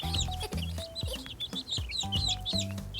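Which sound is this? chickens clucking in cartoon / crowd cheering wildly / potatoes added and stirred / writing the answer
chickens clucking in cartoon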